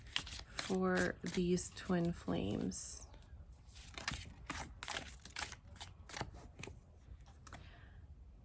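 A person speaks briefly, then a large deck of cards is shuffled with rapid, crisp riffling and flicking that continues for several seconds.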